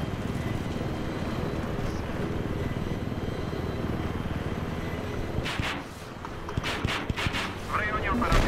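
A helicopter in the video game Battlefield 3 gives a steady, rapid rotor chop and engine drone throughout, loud and close, with brief clicks and talk near the end.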